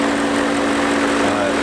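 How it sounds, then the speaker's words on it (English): A 2003 BMW M5 engine idles steadily in the engine bay with the air conditioning on and the auxiliary fan running, a constant low hum with a fixed tone and no rhythmic ticking. "Idle's nice and quiet, no Vanos noise"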